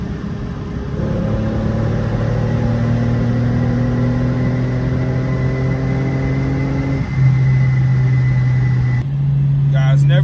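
A Mercedes W210 sedan pulls hard in third gear, its engine note climbing steadily and loudly from inside the car, then a brief shift and a continued higher drone near the end.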